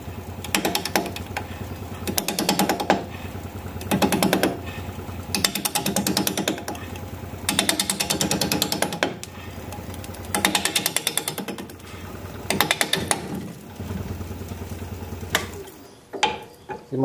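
A wood lathe spins a roughly 7 by 5 by 3.5 inch rhododendron root bowl blank at 580 RPM, a loud steady mechanical drone broken by bursts of rough, chattering cutting in repeated rhythmic passes.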